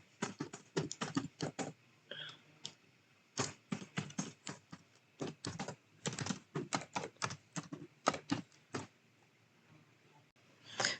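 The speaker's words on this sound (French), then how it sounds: "on va taper la commande" A PowerShell command is typed on a computer keyboard in quick irregular bursts of crisp clicks with brief pauses, close and clear against a quiet background, with no talking.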